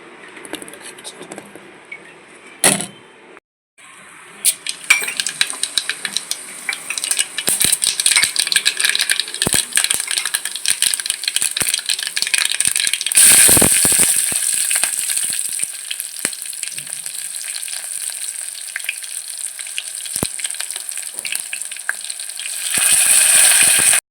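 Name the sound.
whisking gram flour into yogurt for kadhi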